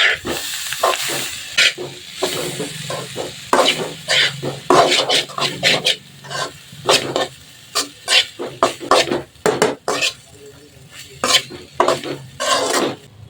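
Veg fried rice with pepper powder being stirred in a pan, with a series of irregular metallic scrapes and clanks of a spoon against the pan over a soft sizzle, loud and close.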